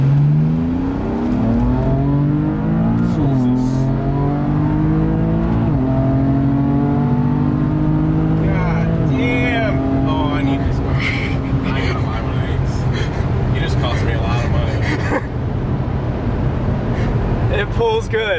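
A BMW M3 engine accelerates in first gear from inside the cabin, pitch climbing in steady pulls broken by a couple of shifts. Someone talks over the engine noise throughout the second half.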